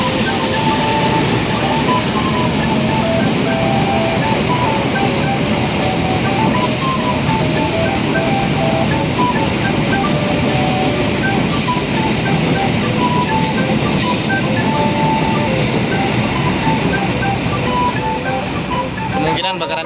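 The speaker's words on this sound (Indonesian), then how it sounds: "Kereta api datang." Argo Wilis passenger train arriving at a station on track 2, a loud, continuous rumble and roar with rolling wheel noise and faint tonal whine, sustained close by throughout.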